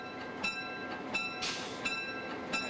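Locomotive bell on the Wyoming Colorado Railroad, rung as the train passes a passenger train: evenly spaced metallic clangs about every 0.7 seconds over steady rail noise, with a brief hiss in the middle.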